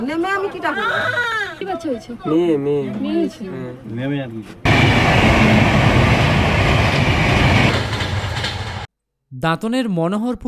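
A train passes a railway level crossing with a loud, steady rumble and rattle. People speak before and after the passing.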